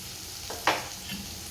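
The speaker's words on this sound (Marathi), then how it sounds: "कांदा सुद्धा छान तेलामध्ये परतून घ्यायचं आहे" Chopped onion frying in oil for bombil fry rice, a faint low sizzle with one brief sharp scrape of a spoon stirring in the pan.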